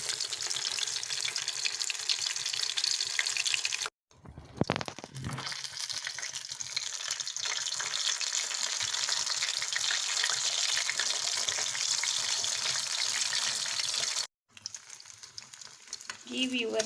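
Fish pieces frying in hot oil give a continuous, close crackling sizzle that drops out briefly twice, with a burst of louder bubbling and spattering after the first gap.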